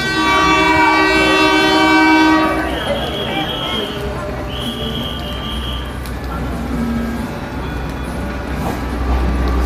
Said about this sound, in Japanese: 私の列車の反対側の方から列車が来ます